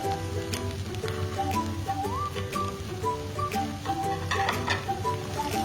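An egg hitting a hot pan for prawn fried rice, giving a steady crackling sizzle with scattered pops over continuous background music.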